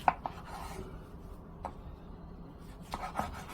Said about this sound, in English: So ideally you want a pretty sharp knife for this. And I just cut them lengthwise. Cut the halves lengthwise.